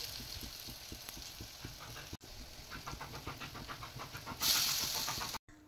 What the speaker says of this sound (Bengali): কড়াই গরম হয়ে গেলে তাতে সর্ষের তেল বা সাদা তেল দিয়ে বড়াগুলো ধীরে ধীরে ভেজে নিতে হবে